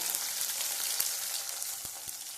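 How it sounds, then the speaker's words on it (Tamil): Peeled small shallots and a slit green chilli frying in hot oil, giving a steady soft sizzle with faint crackles and a few light stirring taps, heard close and alone. "உரிச்சு வச்ச சின்ன வெங்காயம் அதையும் சேர்த்துக்கிறேன்"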